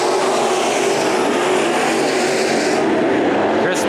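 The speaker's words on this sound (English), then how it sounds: "We got a competitive heat race here." Race cars in a competitive heat race at Bakersfield Speedway roar loudly and continuously, engines blaring close by with a steady wall of noise and no talk.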